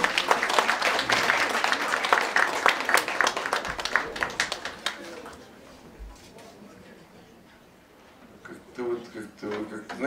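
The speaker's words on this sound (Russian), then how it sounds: "Мы аплодируем, Валерий." Audience clapping at a birthday concert, a dense burst of applause that gradually thins and fades out over several seconds, leaving a quieter room where a voice starts speaking toward the end.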